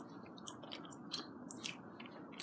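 Close, quiet mouth sounds of someone chewing baked mostaccioli pasta, soft wet chews and small smacks repeating irregularly over a few seconds with no talking.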